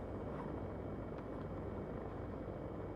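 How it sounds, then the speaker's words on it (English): A Cirrus aircraft's engine in the X-Plane VR flight simulator drones steadily and loudly throughout, a constant unbroken roar with no speech. "That engine noise is plenty loud."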